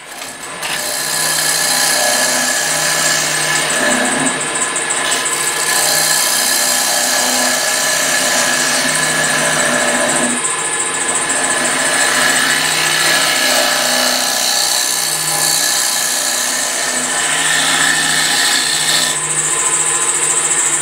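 A lathe hollows out the inside of a scrap wooden bowl, giving a steady, loud tool whine and a scraping cut that run unbroken through the whole stretch, with slight dips now and then and no talking.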